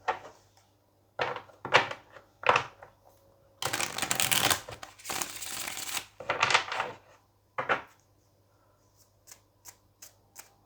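Tarot cards being shuffled in several separate bursts of crisp riffling and flapping, close and fairly quiet, with short pauses between bursts and a few light taps near the end.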